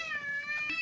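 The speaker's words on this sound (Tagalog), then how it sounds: "Where is the cat?" A real cat gives a single short, clear meow, close by and fairly soft, standing alone without talk.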